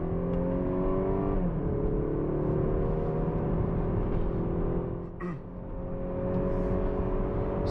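Cabin sound of an all-wheel-drive Audi A5 Sportback base model on the road, a loud steady engine drone with shifting tones and a brief dip midway, rising again as it accelerates.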